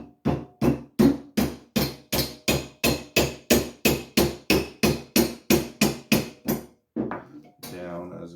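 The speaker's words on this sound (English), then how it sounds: "we'll just kind of hammer this" Metal sword part is struck by a hammer in a fast, even series of about twenty ringing blows, then a pause and a brief voice.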